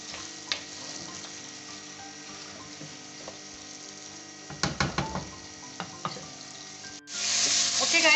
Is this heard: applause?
no